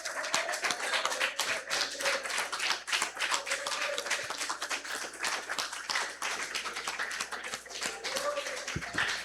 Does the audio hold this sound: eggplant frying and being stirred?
no